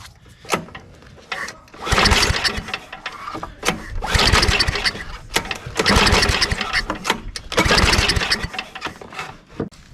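Old, neglected snowblower engine running in loud, uneven surges, its revving rising and falling in several long bursts separated by quieter chugging lulls, close by.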